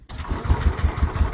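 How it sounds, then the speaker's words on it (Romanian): A motorcycle kick-starts and fires on the first kick, catching abruptly after a moment of silence and settling into a loud, close, rhythmic thumping idle, outdoors on a Himalayan trip. "Deci o motocicletă din asta vreau. Că pornește la prima pedală."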